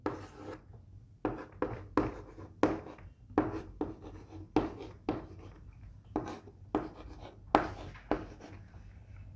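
Chalk or marker taps and scrapes across a classroom board as chemistry naming examples are written out, with a run of short, separate strokes at a fairly even pace, faint and close, with no talking over them.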